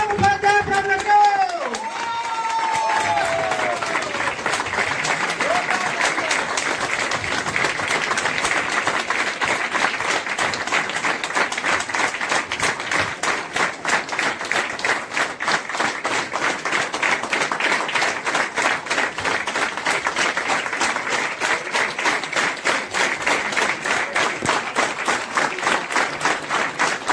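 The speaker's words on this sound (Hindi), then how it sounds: "जोरदार ताली के साथ वेलकम" A large audience at an Amway business session in Prayagraj applauds loudly and continuously to welcome a speaker on stage, a dense sustained wash of clapping filling the room with no pause after a brief opening voice.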